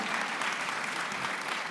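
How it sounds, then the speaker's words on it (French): An audience at a mayor's New Year's wishes ceremony in Fresnes-sur-Escaut applauds, a brief, even wash of many hands clapping at moderate distance. "On peut les applaudir."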